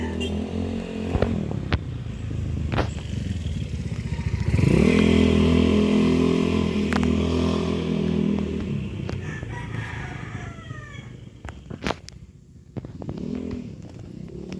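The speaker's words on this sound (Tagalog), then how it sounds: "may motor na dumaan" A motor engine drones steadily nearby, swelling loud for a few seconds before fading away, with a rooster crowing and scattered outdoor noises around it.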